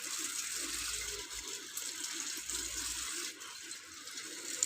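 Steady running water rinsing a recently serviced two-wheeler, a continuous splashing hiss at moderate level with slight dips, no voices.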